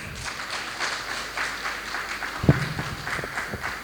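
Audience applause at a corporate speech contest grand finale as a company CEO is welcomed, a fairly quiet, steady patter of clapping with one sharp louder clap or knock partway through.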